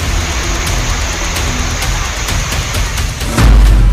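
Heavy monsoon rain pours down in a dense, constant hiss, loud and unbroken, with a deeper low rumble swelling near the end.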